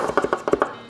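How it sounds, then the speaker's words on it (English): Rapid rocker-chopping of garlic with a knife on a cutting board, a quick run of about eight close, crisp taps in an uneven rhythm, loud and alone. "Just rough chop this garlic. This is called a rocker chop"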